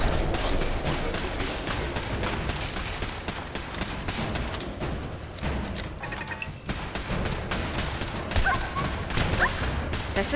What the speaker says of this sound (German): Hör jetzt auf, meinen Hund zu treffen?